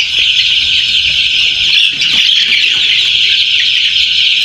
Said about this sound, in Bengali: এখন মুরগির খাবার দেওয়া হইতেছে।